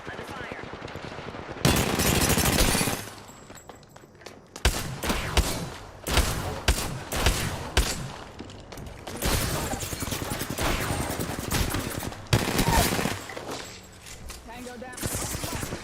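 Gunfire in the Apex Legends battle royale game: repeated bursts of automatic weapon fire, loud and close, in several volleys with brief pauses, and a voice occasionally heard among them.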